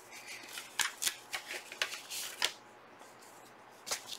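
A birthday card envelope being torn open and handled, giving a string of short crisp paper rips and rustles at close range, with a quieter pause before a final tear and no talking.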